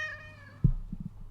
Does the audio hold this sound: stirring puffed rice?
no